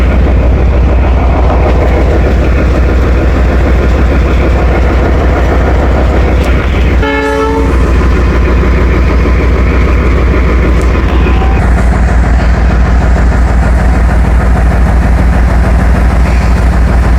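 The 2 Down Shuttle passenger train running between Lala Musa and Sargodha: a loud, steady roar of wheels on rails, with a brief horn-like blast near the middle, no talk.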